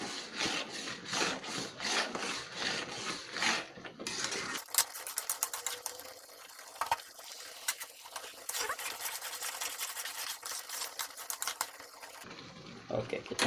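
A spoon stirring and scraping cooked carrot and potato risol filling in a pan, heard as steady rhythmic rubbing strokes, fairly faint and close, continuing over several seconds.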